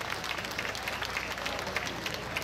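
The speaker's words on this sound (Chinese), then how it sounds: "大家给他们拍拍手我们自己鼓励一" Applause from an audience at a street art festival event in Kaohsiung's Lingya district, a steady, dense wash of clapping hands that holds at an even level from start to end.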